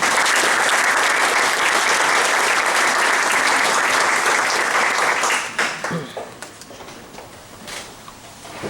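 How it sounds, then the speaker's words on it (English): Audience applause welcomes a speaker to a community presentation on the functions of art, a dense, loud burst of clapping that holds steady for several seconds before thinning into scattered claps. "thank y'all for that applause"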